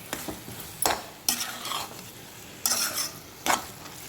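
A spoon scrapes and stirs mutton keema with lime in a pan, giving four or five loud, separate scraping strokes over a low, steady sizzle.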